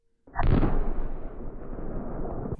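One powerful, close blast from a self-propelled artillery gun firing near Dobropillia, Ukraine, with a sharp onset, followed by a long rumbling roar that slowly decays.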